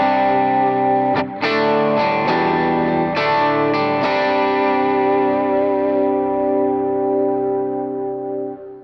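Electric guitar with light overdrive on the neck pickup, tone fully up, strums standard chord voicings: several punchy chord hits in the first four seconds, then a long sustained chord ringing out and slowly fading, loud and alone.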